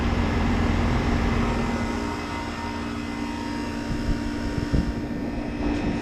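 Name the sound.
commercial HVAC unit running just after starting up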